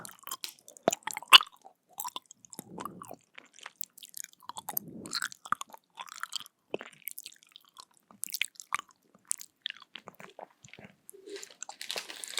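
Close, intimate chewing of assorted Japanese jelly candies: squishy bites, wet smacks and soft crunches in irregular bursts separated by quiet pauses, with no talking.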